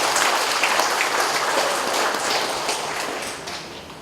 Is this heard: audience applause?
yes